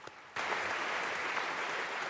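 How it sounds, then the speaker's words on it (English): Colorado legislators burst into sustained applause in a chamber, a sudden onset of steady, even clapping after a quiet moment, with no voices standing out. "nearly a full minute of applause from legislators for their actions"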